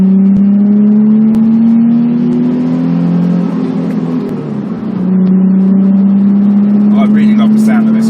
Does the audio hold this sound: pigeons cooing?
no